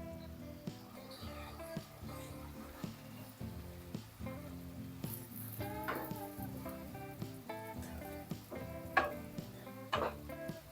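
A spoon stirs a Kerala avial curry in a pot after turmeric powder goes in, giving soft scraping and clinking strokes with a light sizzle underneath, fairly quiet and steady.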